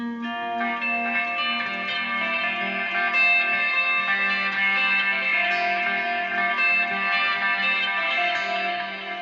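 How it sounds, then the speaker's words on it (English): Electric guitar chords through an Axe FX 2 preset ringing out with a heavy, deep echo and reverb, sustained and steady, sounding like it's played in a huge room. "It's a very deep, echoey, like it's huge room."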